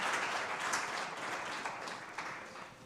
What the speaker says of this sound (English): let's give Dr. Ramatsekisa another round of applause